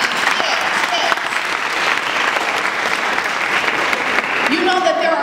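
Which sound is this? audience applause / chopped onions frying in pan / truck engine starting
audience applause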